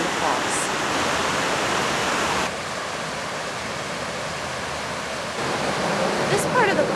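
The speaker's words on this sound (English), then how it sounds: "ledges of sandstone stick out and the water cascades over them" Waterfall cascading over jutting sandstone ledges where softer shale has worn away, in a river park; a steady, dense roar of falling water fills the whole stretch, close and continuous, with a slight dip in the middle.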